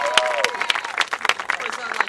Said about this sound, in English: Give Sister Annette Holt a great loving round of applause